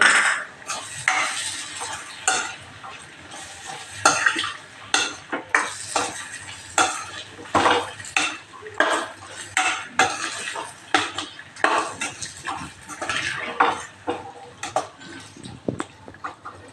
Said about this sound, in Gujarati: આપણે જે ફ્લાવર બટેટા તળેલા હતા તે અમે એડ કરી દઈએ અને બધું સરસ મિક્સ કરી દઈએ